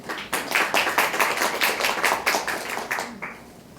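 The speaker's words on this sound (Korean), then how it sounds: "큰 박수로 맞아주십시오." An audience at a forum seminar on women's empowerment gives warm applause to welcome a speaker, with close, steady clapping that tapers off near the end.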